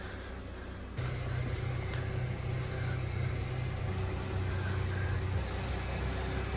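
A rare rotary-engined car in a private collection starts up after a faint quiet moment and settles into a steady, buzzing idle with a low droning hum, held at a constant level nearby for several seconds.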